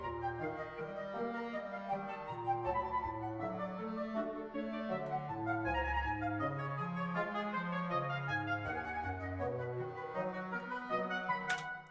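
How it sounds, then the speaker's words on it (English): Orchestral woodwind section playing an intricate passage together on a re-orchestrated Great Mouse Detective theme, moving low bass lines under layered middle and upper parts, steady and full throughout with no talking. "if I just play all the winds together"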